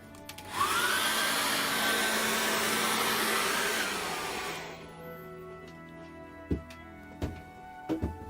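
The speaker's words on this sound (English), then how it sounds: "I'm going to dry that off with a hairdryer" A hairdryer dries acrylic paint on a canvas, blowing loud and steady for about four seconds before it switches off, leaving a few soft knocks and handling sounds.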